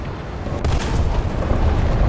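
Tank cannon fire in War Thunder, with an M60 and a T-54 fighting on the Maginot Line map: one sharp heavy shot, then a loud, sustained rumbling boom that fills the rest of the moment.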